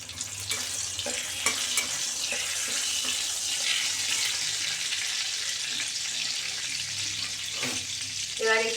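Whole garam masala spices and bay leaves frying in hot oil in a wok, a close, steady crackling sizzle with brief stirring clinks and scrapes throughout, no talk over it.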